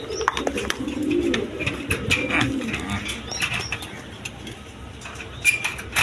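A pair of racing pigeons coo softly at close range, with bursts of wing flapping and fluttering scattered throughout.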